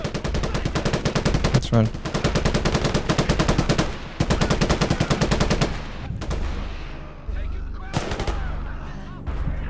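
Bursts of rapid machine gun fire from Gates of Hell: Liberation hammer out in long rattling strings, close and loud, pausing briefly between bursts with a few heavier single shots, and someone says a couple of words over the fire.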